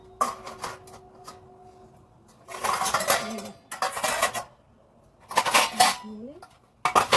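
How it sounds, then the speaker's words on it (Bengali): Washed pots, pans and metal utensils are stacked and put away in a home kitchen. Loud clattering bursts alternate with quiet gaps, and a faint voice is heard briefly. "সব বাসন ধুয়ে গুছিয়ে রাখতেও তো সময় লাগে"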